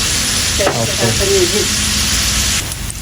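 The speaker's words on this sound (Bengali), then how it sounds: "পেঁয়াজ ভাজি হোক" Onions fry in a pan with a loud, dense sizzle. A short voiced sound rises over it early on before the frying carries on alone.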